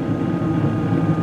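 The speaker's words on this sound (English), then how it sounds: "this guy is running with just the airflow of the inducer motor" Gas furnace inducer motor running with the burners lit and the main blower off, giving a steady, continuous low whirring hum at close range with no pauses.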